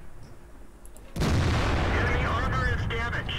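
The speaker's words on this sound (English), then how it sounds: "Oh shit, they have artillery. I forgot they have artillery." Artillery fire in the World of Tanks video game: a sudden loud boom about a second in, followed by a sustained rumbling roar and crackle, with a faint voice under it.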